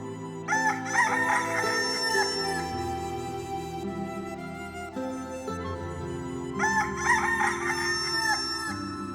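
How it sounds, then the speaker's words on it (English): A rooster crows loudly twice, long drawn-out cock-a-doodle-doo calls separated by a few seconds, over a bed of steady background music. "they brought a fine fat cockerel to crow"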